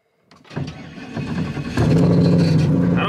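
A twin-turbo 2023 Ford F150 with a swapped TH400 transmission starts up and idles, then its engine note rises and holds steady and loud, with a brief voice near the start.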